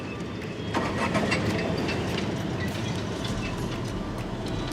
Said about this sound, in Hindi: ये स्टार्ट हो चुकी है। अभी ये CNG मोड में स्टार्ट है